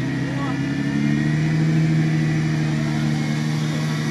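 A Toyota-geared off-road vehicle creeps along in low-range first gear, its engine holding a steady, droning mid-pitched hum close by without revving, continuous for the whole stretch.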